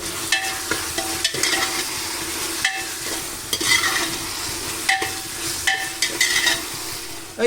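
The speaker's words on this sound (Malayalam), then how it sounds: "ക്യാപ്സിക്ക് ഇട്ടെടുത്തു" Chopped capsicum stirred in a pan while frying, with a low sizzle beneath repeated close scraping strokes of a spoon, several in a rough rhythm, no talk.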